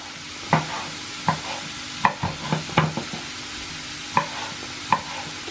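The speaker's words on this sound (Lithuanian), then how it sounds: "Kol svogūnai kepa, susipjaustam silkę." Onions frying in a pan give a steady soft sizzle, broken by regular scraping clicks as a utensil stirs them every second or so, close and without talk.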